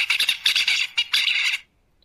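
Bird song recorded ten days after a neural manipulation: a close, loud run of rapid chirped syllables in quick bursts for about a second and a half, then abrupt silence.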